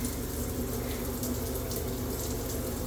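Water draining from a bathtub plug hole, a steady close gurgling rush that keeps a constant level throughout, with no talk.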